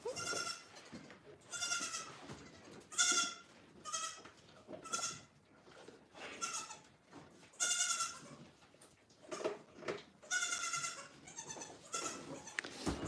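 Goats on a goat farm with many kids bleating, a run of loud, wavering bleats from several animals at close range, calling one after another with short pauses between.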